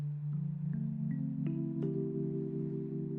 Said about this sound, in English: I'm playing minor 11 chords, so they sound like this.